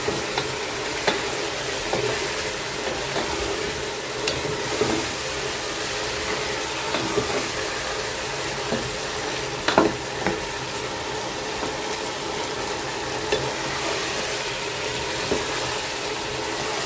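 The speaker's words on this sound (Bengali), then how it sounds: "পেঁয়াজটা ভাজার পর হচ্ছে আমি দিয়ে দিলাম মাংসটা। এখন হচ্ছে একটু ভালো করে কষায় নেব" Meat stir-frying in a pan with fried onions, a steady broadband sizzle with scraping stirs and occasional clinks of a spatula, close and continuous with no talking.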